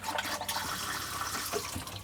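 A cassette toilet in a camper van flushes with a continuous close rush of water running into the bowl, steady and fairly loud throughout with no voices.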